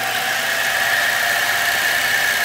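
An engine spins a magneto at a steady 1700 RPM, giving a loud, continuous, even mechanical drone with a high whine running through it and no pauses or voices.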